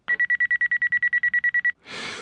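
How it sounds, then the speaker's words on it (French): A morning alarm clock rings at 6:30 with a rapid, evenly spaced run of about fifteen loud electronic beeps, then cuts off into a brief rush of noise. "Comme chaque matin, à 6h30, mon réveil sonne."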